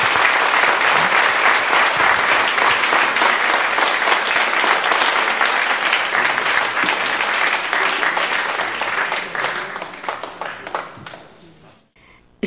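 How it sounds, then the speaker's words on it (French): An audience at a talk with Ariane Chemin at the Casino de Morges breaks into sustained, dense applause that holds loud for about ten seconds before thinning out and fading to silence. "Je vais vous demander, mesdames et messieurs, de bien vouloir remercier Ariane Chemin avec vos applaudissements."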